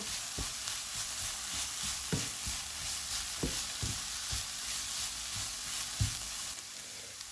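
Leeks sautéing with cumin in a pan give a steady close sizzle, with several soft stirring scrapes and knocks scattered through it and no talking.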